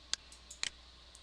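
Two sharp computer mouse clicks, close and quiet, with a couple of fainter ticks around them, heard alone.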